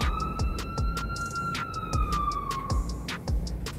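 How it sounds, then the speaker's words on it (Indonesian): A hearse ambulance siren wails in a steady sustained tone close by, accompanied by a fast, regular beeping pulse running throughout. "Jadi ketika ambulans jenazah pakainya yang ini"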